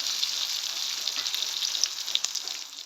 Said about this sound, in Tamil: கொஞ்ச நேரத்துக்கு வந்து கறி மிளகாயை வதங்க விடுவோம்.